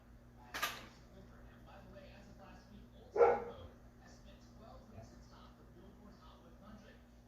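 A dog gives two separate barks a few seconds apart, heard indoors against a quiet background hum.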